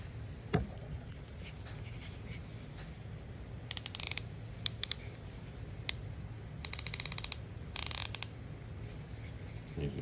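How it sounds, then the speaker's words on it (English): Ratcheting mechanism of a screwdriver from a VETO ProPac TP4B plumbers tool bag clicking in short bursts of crisp, close ticks, with quiet gaps between the runs. "And I love that ratcheting, the action on it."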